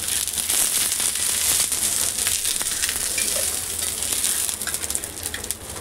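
Food frying in a pan makes a loud, continuous sizzle with a dense crackling hiss that holds steady throughout, with no talking.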